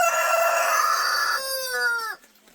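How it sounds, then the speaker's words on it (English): A rooster crows loudly and close by, one long drawn-out call that breaks off, followed by a few soft clucks. "Sorry, I'm having coffee with my chickens."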